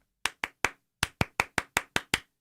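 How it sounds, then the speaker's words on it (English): Ten sharp hand claps close by and alone: three quick ones, a short pause, then seven in a steady, even beat. "He clapped too many times, by the way."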